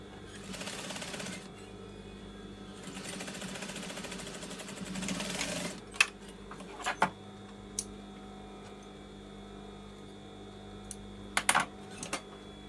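Sewing machine stitching across the scallop edge of a bed runner, two bursts of fast mechanical whirring followed by quieter handling clicks and taps, close and moderate in level.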